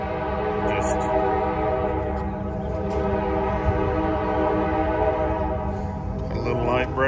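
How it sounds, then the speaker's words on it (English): A mountain train in Durango idles nearby before departing, with a steady low rumble and droning mechanical hum, brief hissing bursts rising over the continuous noise. "As you can hear, the train's getting ready to head up the mountain"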